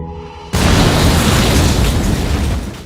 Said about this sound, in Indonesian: mereka menemukan satu orang yang sudah dipasangi bom dan saat itu juga langsung meledak